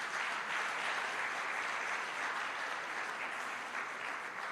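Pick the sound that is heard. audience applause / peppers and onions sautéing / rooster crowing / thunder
audience applause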